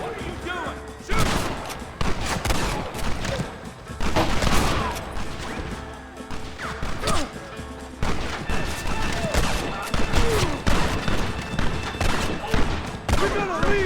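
Heavy gunfire in the Western game Red Dead Redemption during an assault on a gate: a continuous, loud volley of overlapping shots and crashes rattles on without pause, with shouting voices mixed in.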